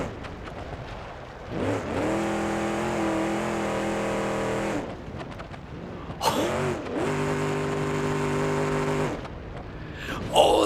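A big-block Chevy Impala in the BeamNG.drive driving game laps a dirt track, its engine droning loudly and steadily in two long revving stretches with a brief lull between.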